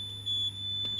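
A fire alarm panel buzzer sounds a steady, shrill electronic tone. It is close and continuous, with a couple of brief clicks over it.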